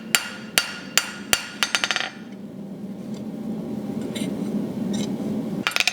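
Metal pieces are forged with a hammer during a blacksmithing lesson: a run of sharp, ringing blows, several in quick succession, then a quieter stretch of low background noise before a final burst of strikes.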